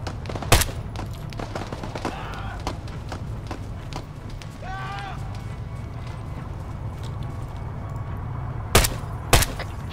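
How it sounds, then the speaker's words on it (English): A few sharp gunshots in Arma 3 crack out during a convoy fight, one near the start and two close together near the end, with radio-style voices talking in between. "Taking fire from the south at the trucks, by the way."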